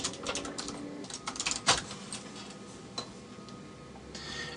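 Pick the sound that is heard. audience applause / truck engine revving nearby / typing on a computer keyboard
typing on a computer keyboard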